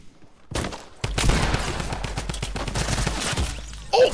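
Video game gunfire from a sniper: a short lead-in shot, then a loud, dense burst of rapid shots rattling on for about three seconds before a final hard crack, with no voices.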